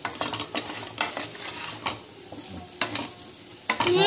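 Slices of raw banana (plantain) fry in a pan under a constant sizzle, broken by repeated scraping and clinking stirring strokes at an uneven rhythm, close and clear.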